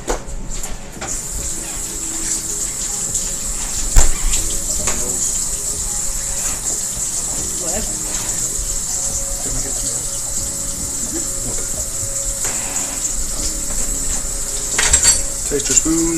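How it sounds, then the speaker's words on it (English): A kitchen water tap runs steadily throughout, a continuous hiss with occasional dish and utensil clatter nearby, during cooking of Zuppa Toscana soup. "Water off because I know that's a little bit loud."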